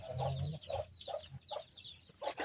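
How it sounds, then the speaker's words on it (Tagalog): A wild chicken clucks in short, repeated bursts nearby, fairly quiet, with a few sharper calls mixed in. "Manok na ihalas."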